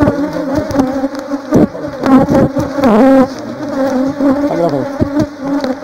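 Africanized honey bees buzzing loudly and close up around a hive as propolis is collected, a dense, wavering swarm drone with rising and falling pitch and a brief spoken remark.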